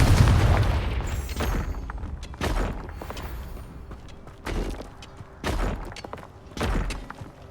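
Bombarda and Confringo spell blasts in the Hogwarts Legacy video game go off as a series of heavy booming explosions, about six loud thuds spaced irregularly over a rumbling battle background, with no talking.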